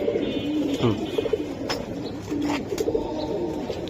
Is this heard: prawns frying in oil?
no